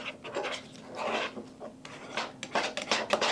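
Powdered canned egg being stirred and mashed with water in a bowl, giving close, uneven scraping and rasping strokes in irregular bursts, with no talk.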